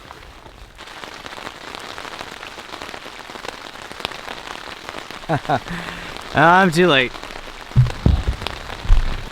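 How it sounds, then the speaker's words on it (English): Continuous patter of rain falling on a surface at a wild campsite with a hot tent, with someone speaking briefly near the end and some rustling over the steady hiss. "because it's raining now"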